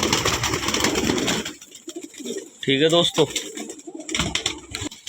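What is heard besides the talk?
pigeons cooing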